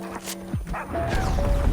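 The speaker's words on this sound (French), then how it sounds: "Et oui, il y a un chien." A dog in the Fortnite video game gives a short yip and bark, then a whimpering whine, close and clear over game effects and a rising background rumble, with no talking.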